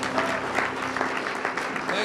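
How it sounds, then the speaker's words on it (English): A church congregation claps hands in praise, a burst of brisk, overlapping applause filling the room while a voice carries on over the clapping. "give Him a hand clap of praise"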